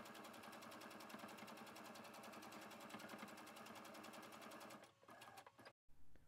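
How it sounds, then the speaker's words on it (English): A sewing machine with a scant quarter-inch foot stitches quilt blocks together by row, running steadily with a fast, even mechanical rattle for several seconds before stopping briefly and restarting, close and with no talk. "I sewed the blocks together by row, pinning and using my scant 1/4 inch foot on my sewing machine."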